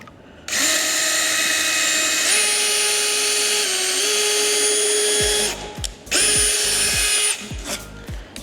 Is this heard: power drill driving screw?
yes